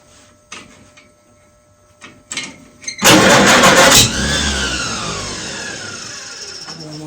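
A 1954 Farmall Super A tractor engine is pull-started: a few faint tugs, then a loud mechanical clatter that catches for about a second before fading into a lingering hum.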